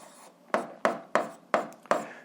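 An algebra expression is written out by hand in five quick, sharp scratching strokes, evenly spaced and close by in a quiet room.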